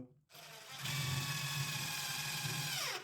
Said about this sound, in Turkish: daha kalın yine 10 santimetrelik daha kalın bir vida göndereceğim